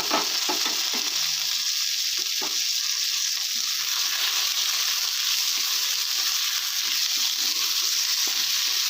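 Chopped potatoes sizzle and fry in a pan with onions for a poppy-seed spring onion dish, a steady broadband hiss running throughout with occasional clacks of stirring, close and fairly loud.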